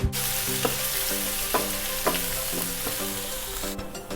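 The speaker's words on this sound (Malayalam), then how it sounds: "അതിലോട്ട് ഞാൻ ഒലിവ് ഓയിലാണ് ആഡ് ചെയ്യുന്നത്. Olive oil ചൂടാകുന്നതിനകത്തോട്ട് garlic, green chilli add ചെയ്യാം" Garlic and green chili frying in hot olive oil, a steady close sizzle with repeated rhythmic scraping taps of a utensil stirring the pan about every half second.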